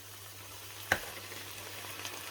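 Chicken browns in a pan for a low-carb curry, a faint steady sizzle with one sharp clink of a utensil as it is stirred and turned, heard alone.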